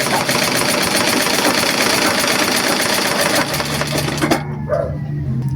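A sewing machine stitches doubled test fabric with a loud, fast, steady mechanical whir that stops near the end.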